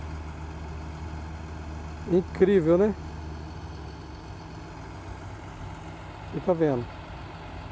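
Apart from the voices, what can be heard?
tractor engine pulling a sugarcane planter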